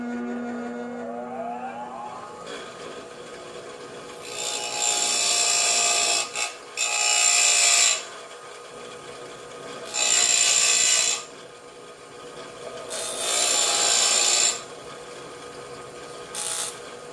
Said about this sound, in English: In the interest of time, I'm going to use a bench grinder.